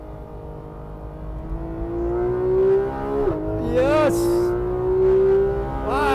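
Porsche 991.2 GT3 RS rear-mounted flat-six on its first lap of the Nürburgring, a steady loud engine tone climbing in pitch through the gears with brief shift breaks, heard from inside the cabin while someone talks over it.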